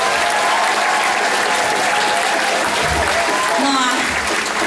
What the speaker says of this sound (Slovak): Takže veľký potlesk aj vám.